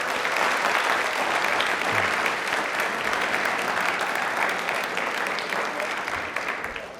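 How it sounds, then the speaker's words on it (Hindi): Studio audience at a televised Rajasthani quiz show breaking into loud, sustained applause, a dense wash of clapping that holds steady for several seconds and eases slightly toward the end. "एक बार वापस से जोरदार ताली अपने लिए प्लीज"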